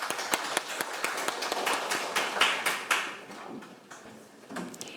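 Scattered hand claps from a small group of guests at a seminar opening ceremony on North Korean abductions, sparse and uneven, with a few sharp taps that thin out and fade toward the end.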